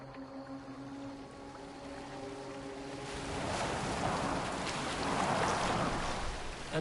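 A boat steered across open water in Assassin's Creed Valhalla, a low tonal hum giving way after a few seconds to a broad, steady rush of water that swells louder and stays continuous to the end.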